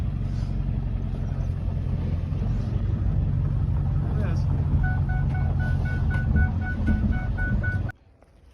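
A vehicle in low range tows a trailer with a loud, close, steady engine rumble and drone, a thin tonal whine joining midway before the sound drops away abruptly at the end.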